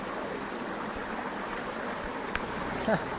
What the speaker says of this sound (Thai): ซึ่งที่นี่มันก็เป็นน้ำตก